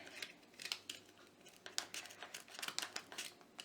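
A knife cutting into cardboard during a DIY art build, heard as a quick run of close, dry, scraping slices and crinkles, with no talking.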